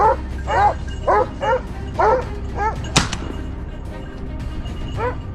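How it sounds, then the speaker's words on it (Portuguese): Hunting dogs on a wild boar hunt bark repeatedly in a fast, rhythmic series, loud and near, with a sharp bang-like crack partway through. "Os cães latiam ferozmente."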